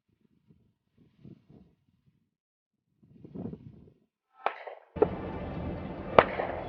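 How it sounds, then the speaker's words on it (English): Sharp, loud cracks burst out near the end after quieter rustling, with two distinct bangs followed by a sustained noisy wash. "Two more gunshots."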